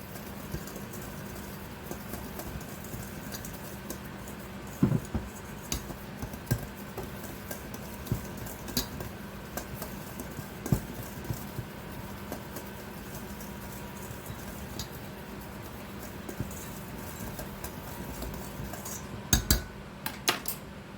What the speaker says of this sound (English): Now we're going to whisk all of this together.